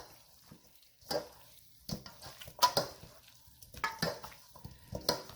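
Seasoned chicken wings tossed and mixed by hand in a bowl, giving soft wet squelches and slaps in uneven bursts, close and moderately quiet, with no talking.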